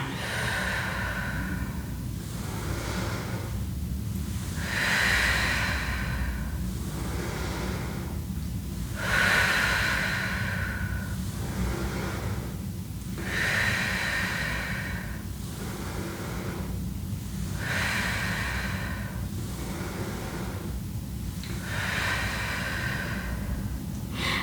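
Slow, deep breaths during a yoga kriya, each long inhale and exhale rising and falling in a steady rhythm of about five cycles, close and breathy with no talking.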